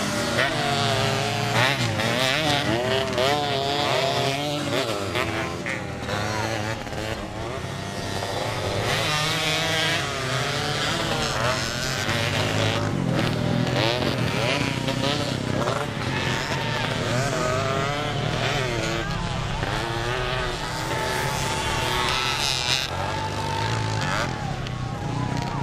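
Motocross motorcycles in a 2015 beginners' heat race, engines whining and rising and falling continuously at a distance under steady commentary from an announcer.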